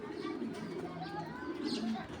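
A pair of active domestic pigeons, club birds, coo in low throaty murmurs close by, with faint background noise throughout.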